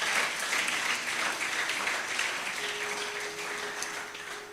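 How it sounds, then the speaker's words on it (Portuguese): A church congregation applauds steadily, a dense even clatter of many hands that holds fairly loud for the whole stretch and eases off slightly toward the end, with no talk over it. "Alguém aplauda no nome do Senhor Jesus Cristo."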